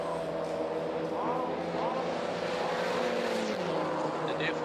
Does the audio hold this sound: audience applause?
no